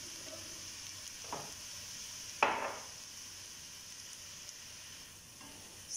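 Chicken sizzles steadily as it browns in a pot for chicken machboos, with a few scraping stirs and one louder clatter of the spoon, close up and without talk.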